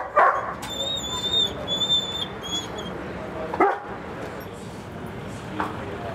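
A dog at a truck stop gives high thin whimpers and yips, fairly close, over a busy background rumble with a few knocks and clatters.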